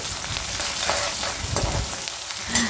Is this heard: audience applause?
no